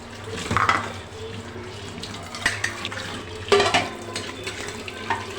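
Kitchen dishes being rinsed under running water, with intermittent splashes and clinks of utensils close by, no talking.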